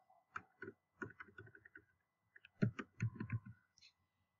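Typing on a computer keyboard, quiet close clicks of keystrokes in two short bursts separated by a brief pause.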